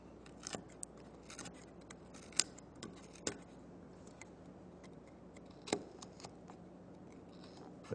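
A knife breaks slivers out of a piece of wood while whittling, cutting in from all four sides: a few sharp, close snaps and clicks spread through a quiet background, with no talking.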